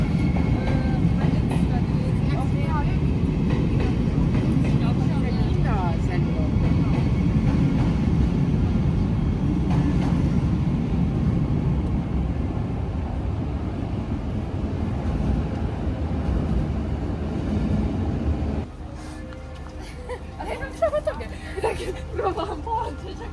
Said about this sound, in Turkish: Bir yandan da tren geçiyor.